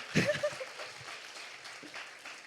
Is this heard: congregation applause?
yes